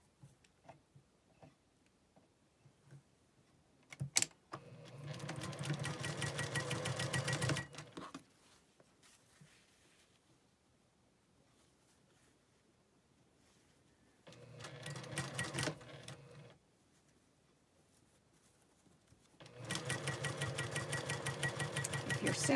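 A sewing machine stitches together a nine-patch quilt block for a Single Irish Chain quilt, running in three separate bursts of steady, rapid stitching with quiet pauses between them.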